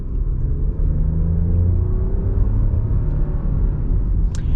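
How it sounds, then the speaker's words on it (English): A 2020 Lexus RX 350L with an 8-speed automatic accelerates in sport mode, its engine giving a loud, steady low rumble and rising drone heard from inside the cabin throughout. "We are going to get our little acceleration here, and I am going to throw it over into sport mode for the acceleration."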